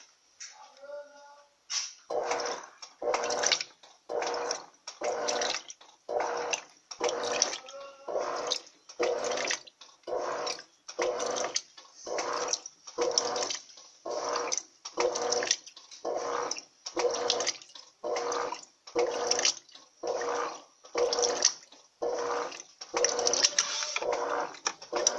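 An Electrolux Turbo Economia 12 kg top-loading washer agitates microfiber blankets on a high water level, producing rhythmic sloshing surges of water about once a second, repeating steadily and loudly throughout.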